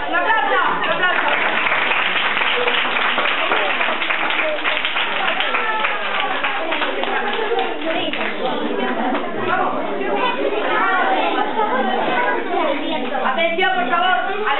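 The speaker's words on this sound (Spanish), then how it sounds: "¡Un aplauso!" Sustained audience applause fills the whole stretch, dense and steady at an even level, with crowd voices and chatter mixed through the clapping.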